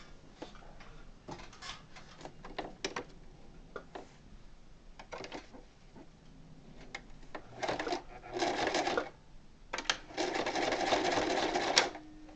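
A sewing machine stitches across a wedding bag in several runs of rapid mechanical chatter, each burst separated by brief pauses and handling noises.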